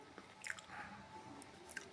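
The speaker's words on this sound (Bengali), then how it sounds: "আর তাড়াহুড়ো করে খাচ্ছি" Someone hurriedly eats chilli chowmein, with soft, close, wet chewing and squishing in a quiet room and a few faint clicks of mouth or utensil.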